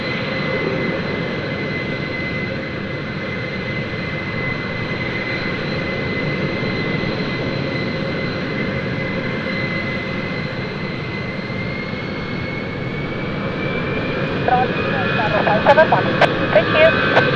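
An ITA Airways Airbus A320 builds a steady, loud roar of jet engines as it takes off on runway 28, a constant broadband rumble with a whining tone holding throughout, while faint radio voices sit underneath.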